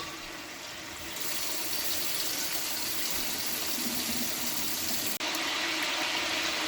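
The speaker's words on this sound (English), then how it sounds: "I'm going to pour a cup of water into my pot" Water pours steadily into a cooking pot of brown stew pork in a continuous rushing stream, growing slightly louder partway through, with no talking.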